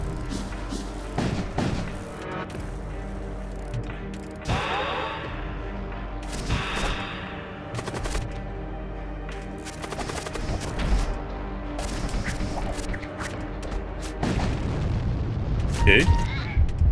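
Missiles fired and exploding in the space combat video game Void War, a run of booming blasts and sharp pops over a steady game soundtrack, some hits near and loud.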